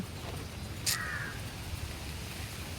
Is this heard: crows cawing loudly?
yes